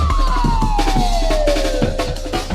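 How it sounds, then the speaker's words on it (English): A police siren effect wails within a rap song, its tone sliding steadily downward in one long sweep over a thumping low beat, loud and up front. "here go the siren"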